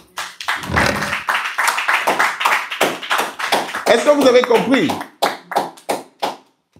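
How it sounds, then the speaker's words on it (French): Sunday church service congregation applauding in rhythmic bursts of claps, with a preacher's voice speaking over the clapping partway through before it fades out. "Applaudissons pour Jésus."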